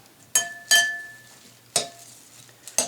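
Delicate vegetables being tossed with a light olive oil dressing in a bowl, four distinct clinking knocks of utensils against the dish, with quiet gaps between them.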